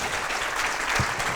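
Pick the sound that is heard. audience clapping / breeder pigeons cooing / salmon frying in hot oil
audience clapping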